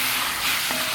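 Masala of garam masala, cumin and pepper powder frying in a pan for a quail roast, a steady close hiss of sizzling oil throughout the brief moment, no voices.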